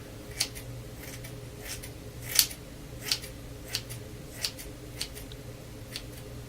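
Scissors snipping while cutting hair into layers, a series of crisp, close snips at a steady, unhurried pace, each short and distinct over a quiet room hum.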